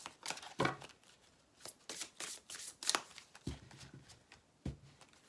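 Oracle cards are shuffled in several quick, soft riffling bursts with pauses between them, faint and close, with no talking.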